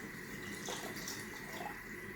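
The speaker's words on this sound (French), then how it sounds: "Je vais juste venir mettre mon eau jusqu'au maximum" Water poured into a Thermomix bowl up to the maximum line while making chorba, a soft steady splashing stream that is quiet and continuous throughout.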